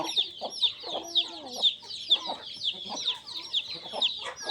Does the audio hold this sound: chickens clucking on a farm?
yes